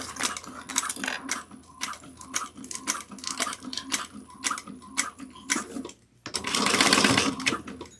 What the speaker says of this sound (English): I'm going to sew at 1/4 of an inch and starting and stopping before that